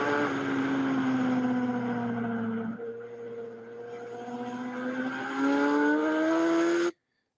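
A motorcycle engine at heavy, near wide-open throttle on a track, loud and close, its pitch rising steadily, dipping briefly as it eases off, then climbing again before cutting off abruptly.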